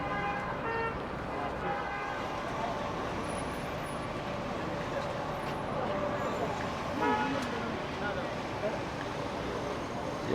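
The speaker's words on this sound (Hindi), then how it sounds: "Oh, look at the traffic" Busy street traffic rumbles steadily near the Haram in Mecca around Friday prayers, with several short car horn toots sounding over the dense road noise, mixed with faint crowd voices.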